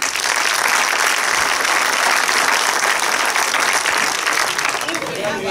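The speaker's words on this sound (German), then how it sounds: "Applaus für den Kommunisten." Dense, steady applause from an audience at a film pre-premiere with a surprise guest, loud and close, sustained without pause throughout.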